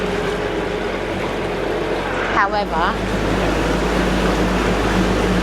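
A narrowboat's engine revs hard inside a short canal tunnel, making a steady, loud, droning rumble with a hollow, boomy wash of noise around it; a voice briefly speaks partway through.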